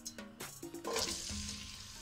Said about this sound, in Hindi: प्याज को गोल्डन होने तक भूनेंगे